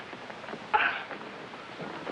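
A single sharp sneeze bursts out mid-clip, fairly close and brief, between stretches of quiet room tone with faint background noise.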